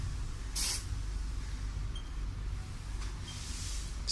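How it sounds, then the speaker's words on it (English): Test smoke is sprayed from an aerosol can at a smoke detector in two short hissing bursts, one early and a longer one near the end, over a low steady hum. "Now we are going to emit some smoke to the smoke detector"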